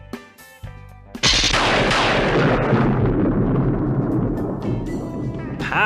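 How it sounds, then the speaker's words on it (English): A thunder and lightning sound effect in a storybook reading: a sudden sharp crack at about one second swells into a long rolling rumble that slowly fades, after a few soft musical notes. "Pow! Went the lightning."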